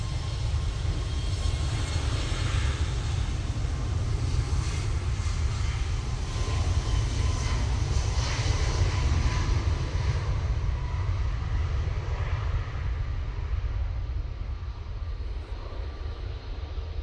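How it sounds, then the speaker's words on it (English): Boeing 737 MAX 8 airliner departing Manchester Airport, a steady, loud jet engine roar with a deep rumble that holds through the whole stretch and eases slightly toward the end, with no voices. "737 MAX 8 now departing"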